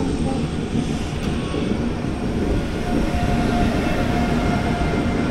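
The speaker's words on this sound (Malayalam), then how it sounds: "KSR ബംഗളൂരു ന്യൂഡൽഹി കർണാടക എക്സ്പ്രസ് ആണത്." The KSR Bengaluru–New Delhi Karnataka Express passing an Indian train near a bridge: continuous loud rumbling roar of wheels and carriages, heard from onboard the other train.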